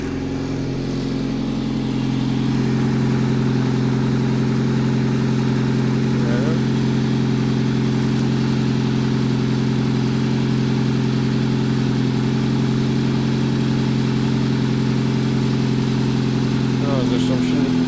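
A homemade cogeneration generator set on its first start after standing unused for a long time, its engine droning at a steady loud idle with a strong low hum throughout, close to the microphone.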